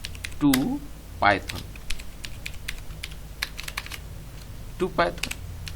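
Typing on a computer keyboard while writing Python code, a steady run of close, crisp keystrokes. A voice speaks briefly at a few points over the clicking.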